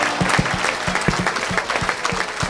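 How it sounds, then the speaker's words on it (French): A church congregation applauds and cheers for Jesus Christ during a sermon, with steady dense clapping and crowd noise throughout. "Oh, donne une grande acclamation à Jésus-Christ"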